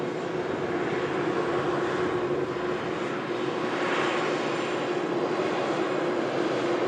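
An airliner on a taxiway at Manchester Airport gives off a continuous, moderately distant engine drone with a steady hum and broad rushing noise, unbroken throughout and with no voices.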